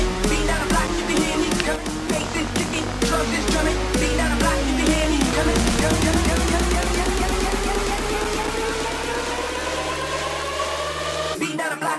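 Electronic dance music build-up made in FL Studio, with a snare roll speeding up, a rising lead melody and vocal, growing dense and loud before cutting off near the end.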